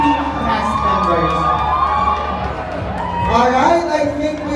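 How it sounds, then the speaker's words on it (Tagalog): Crowd cheering and shouting at a movie premiere night for cast members, a steady loud wash of whoops and voices throughout with a swell near the end. "bigyan ng masigabong palakpakan na may kasamang hiyawan ng ating team cast members"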